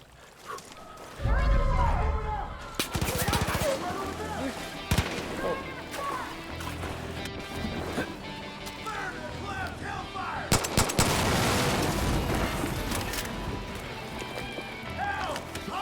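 Rapid gunfire bursts in a video game, loud and repeated across the scene, mixed with galloping hoofbeats and running, with a player's voice talking over the action.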